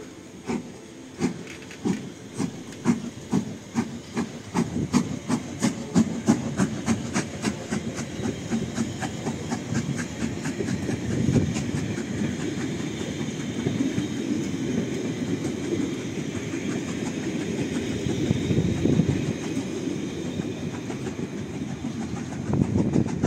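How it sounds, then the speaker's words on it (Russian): Steam locomotive train departing in Germany's Harz mountains, heard from a short distance with rhythmic chuffing and clacking that starts spaced and quickens, then settles into a continuous rolling rumble with hiss. "Хотел паровоз снять. И он сейчас отчалит."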